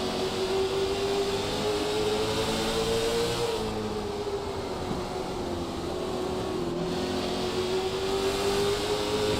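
Stock race cars circle the short oval at Hickory Motor Speedway, a loud continuous engine roar with a steady whining pitch that dips and climbs as drivers ease off and get back on the throttle, with no talk over it.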